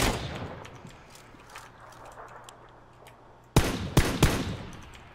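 Gunfire in the battle royale game PUBG: a few loud, close shots come in quick succession after a stretch of quieter background rumble.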